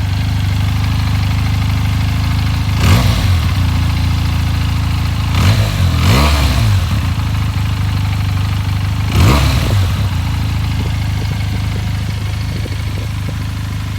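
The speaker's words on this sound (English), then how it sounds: "Go ahead and give it a few" A Benelli TNT motorcycle idles steadily and close by, then is revved in three sharp throttle blips, the last two close together, each settling back to a loud, even idle.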